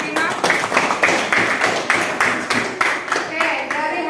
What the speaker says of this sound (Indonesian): Aplaus untuk kelompok 5.